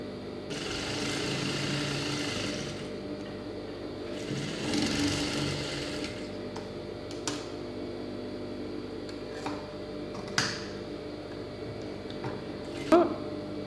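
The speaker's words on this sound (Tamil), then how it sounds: "இப்போ வந்து கொக்கி பீஸ் தைச்சிட்ருக்கோம்." Sewing machine stitching the hook piece of a lined blouse, a faint steady whirring run in short bursts, with a few light clicks and handling knocks between stitches.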